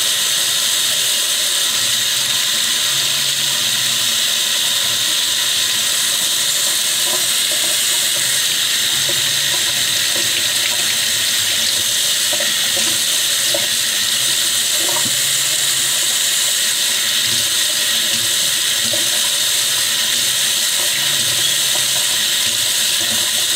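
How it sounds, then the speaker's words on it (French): Water runs steadily from a sink tap as hair is rinsed, a continuous close hiss of flowing, splashing water with no talk over it. "On va rincer les cheveux."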